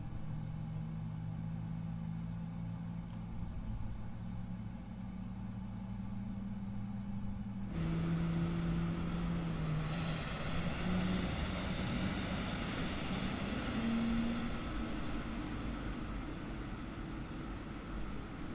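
An airliner's engine spools up in a flight simulator, a low hum that jumps into a louder, broad roar partway through, with rising whine tones layered over the steady rumble.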